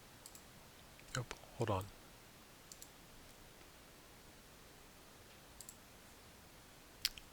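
A computer mouse gives a few sharp, close clicks spaced apart, with a short spoken remark between them.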